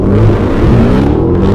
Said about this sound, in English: I took her out and let her do Doughnuts in my Redeye